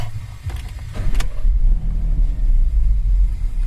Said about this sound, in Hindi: और गाड़ी स्टार्ट करता हूँ।